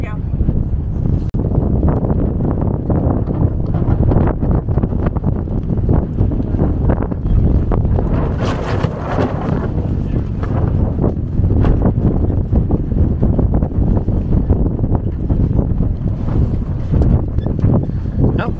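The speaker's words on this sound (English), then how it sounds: "Wind's a little bit touchy right here right now." Wind gusts over a Lagoon 420 catamaran riding at anchor, a steady loud rumbling roar with buffeting against the microphone, continuous throughout, with voices faintly mixed in.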